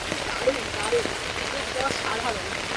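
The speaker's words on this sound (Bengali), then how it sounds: "এত পুরো বৃষ্টি আর এই বৃষ্টির মধ্যে" Steady rain falls as a soft, continuous hiss with scattered faint drips and patters, fairly quiet and even throughout.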